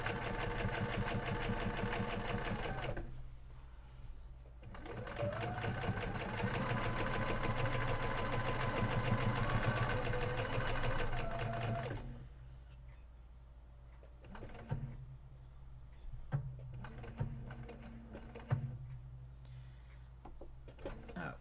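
A sewing machine used for machine quilting runs in a steady, loud mechanical whir, then stops, followed by quieter pauses broken by short bursts of stitching and small clicks.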